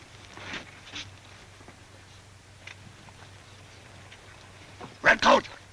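A sled dog in the Yukon barks briefly, a couple of short faint barks early and a louder double bark near the end, against a quiet background.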